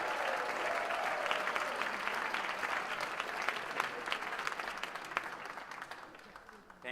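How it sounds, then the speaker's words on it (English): Sustained applause from an audience at the Fast Pitch 2018 event, dense steady clapping that holds for several seconds before tapering slightly at the end, with some voices mixed in. "Let's give them a big round of applause."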